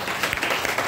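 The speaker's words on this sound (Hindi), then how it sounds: "जोरदार तालियां" A dense, steady wash of many hands clapping together, loud and continuous throughout.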